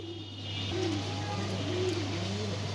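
Pigeons kept for sale coo in a few low, repeated warbling calls over a steady electrical hum, fairly close but not loud.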